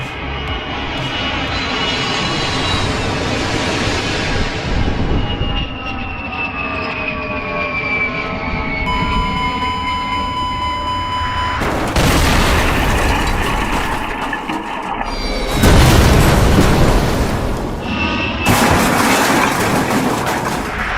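Lego model airplane, longer than any built before, engine drone steady then crashing with loud broadband bursts and clattering breakup near the end, no voices.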